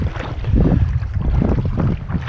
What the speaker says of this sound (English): And this is the windy side.